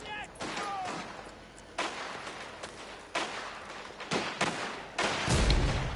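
Pistol shots ring out in a video game, several sharp reports in separate bursts spaced about a second apart, fairly loud over a low background.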